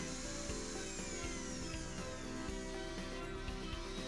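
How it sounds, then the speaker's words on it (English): A power drill bores holes and drives screws through the end caps of a spiral duct grille, a steady whirring drone with repeated short bursts and faint metallic scraping, heard alone at low level. "drill the holes and install the screws to pull the end caps flush to the duct"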